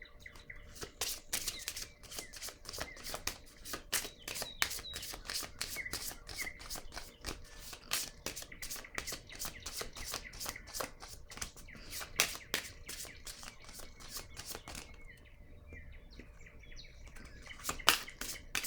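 A deck of tarot cards is shuffled and drawn, producing quiet, quick papery riffles and flicks in irregular bursts, soft and close with brief pauses near the end.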